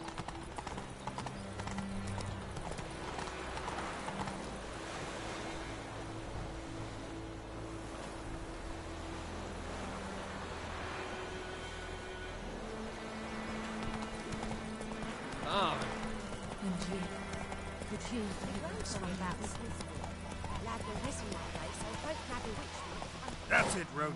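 In The Witcher video game, a horse gallops with steady, rhythmic hoofbeats throughout, under wind, ambient game sound and music, while people talk now and then.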